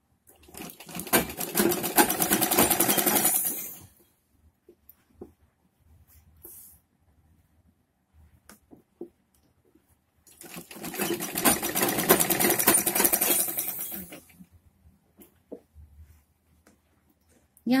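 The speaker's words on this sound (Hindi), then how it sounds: "अब इतना हम सीधा सीधा ही सिलेंगे" Electric sewing machine stitching a straight seam along a Patiala salwar belt, two sustained runs of steady, fairly loud whirring separated by a pause, close by with no talk.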